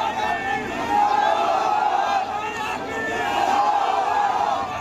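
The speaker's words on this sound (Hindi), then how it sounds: "फिर नारेबाजी शुरू हुई," Night crowd on a street in Budhana, Muzaffarnagar, chanting slogans: a dense, continuous roar of many raised voices, loud and steady with surging peaks, no single speaker standing out.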